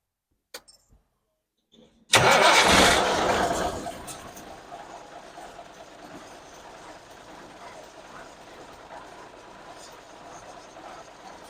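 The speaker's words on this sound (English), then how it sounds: "Fire it up again." After a few faint clicks, an International Harvester 4070B Transtar 2 truck engine cranks and roars to life loudly, then settles into a steady rumbling idle that continues to the end.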